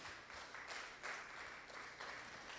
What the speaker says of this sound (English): Let's give him a good clap offering, please, somebody.